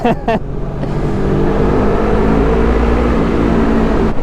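A car drives through a road tunnel on the way up to the Grand Saint Bernard pass, a loud, steady engine and road roar that fills the enclosed space, with brief knocks at the start.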